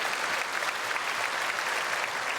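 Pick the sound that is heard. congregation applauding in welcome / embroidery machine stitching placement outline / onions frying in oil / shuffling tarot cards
congregation applauding in welcome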